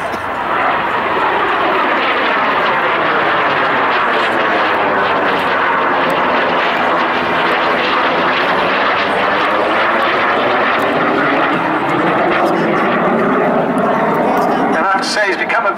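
A Jet Provost T3 jet trainer makes a low pass at an Abingdon air display, its engine roar swelling steadily and sweeping past with a strong Doppler whine, heard loud and continuous for the whole stretch.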